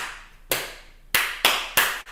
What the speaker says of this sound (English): if I start clapping